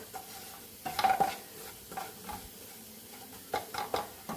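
A spoon scrapes and stirs food frying in a pan for a breakfast dish, several sharp metallic scrapes in irregular bursts over a soft, steady sizzle, close and with no talk.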